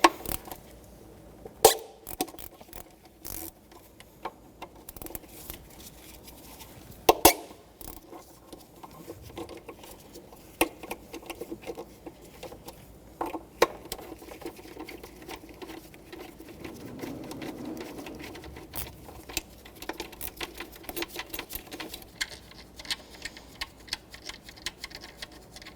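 A hand ratchet loosens engine bolts on a 2014-2019 Toyota Corolla 1.8L four-cylinder, giving close, quick clicking runs and occasional sharper metallic knocks under a faint steady background hum.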